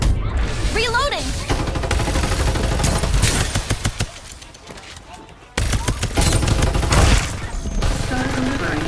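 Rapid BAR 95 bursts in the battle-royale video game Farlight 84, loud and dense with machine-gun chatter, short pauses and a brief lull midway before firing resumes, with game voice lines and effects mixed in.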